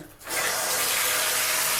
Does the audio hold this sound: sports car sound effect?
no